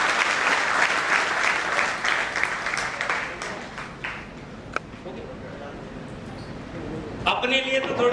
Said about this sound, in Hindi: तो एक बार जोरदार तालियां आप सबके अपने लिए।